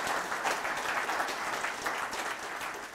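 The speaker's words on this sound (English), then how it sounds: "Let's give Ben one more big round of applause." Steady audience applause for Ben Kuo at the close of an entrepreneur speaker series talk, a dense even clatter of many hands sustained throughout at moderate distance with no talk over it.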